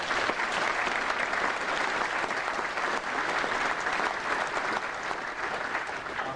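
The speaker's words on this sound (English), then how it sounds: "would you mind giving those people a nice round of applause?" Attendees at a 1999 94th Bomb Group reunion applaud board members and their president, continuous dense clapping at an even, steady level throughout.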